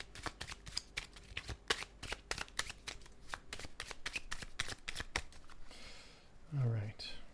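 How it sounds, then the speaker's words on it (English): Oracle cards are shuffled by hand in quick riffling bursts of crisp, rapid flutters, repeated several times close up, followed by a brief murmur of voice at the end. "I'll shuffle them 3 times as usual."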